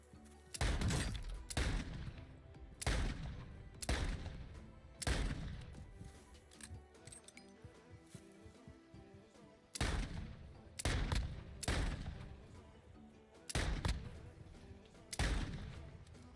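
Revolver gunfire in a video game, sharp loud shots spaced a second or more apart in two bursts, each crack followed by a booming decay, with a quieter stretch between the groups.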